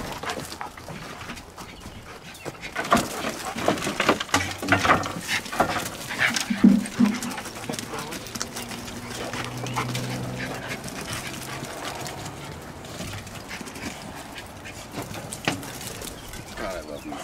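Dogs pant and whimper close by in a backyard, with breathy rhythmic panting, shuffling and brief high whines mixed with scattered handling noises and occasional voices.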